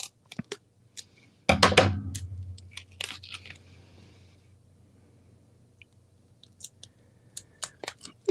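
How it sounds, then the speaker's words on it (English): Non-stick scissors cut craft foam for a penny slider card. One sharp, crunchy snip stands out and fades, followed by scattered lighter clicks and small handling noises in a quiet room. "whenever I cut foam, I always use my non-stick scissors"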